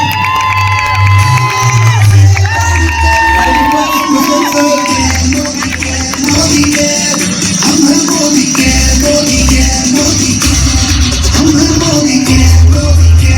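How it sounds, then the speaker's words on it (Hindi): A stadium audience at a stage event in Talkatora Stadium cheers and whoops loudly and continuously, with crowd shouting and music-like tones over a dense, steady roar throughout. "जोरदार तालियां"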